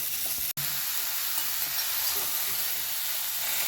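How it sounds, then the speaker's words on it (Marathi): Red pumpkin vegetable being sautéed in a pan, a continuous close sizzle and hiss with a single sharp clink near the start. "आपण आता ही भाजी व्यवस्थित परतून घेऊया"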